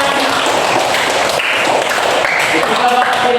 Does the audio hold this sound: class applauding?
yes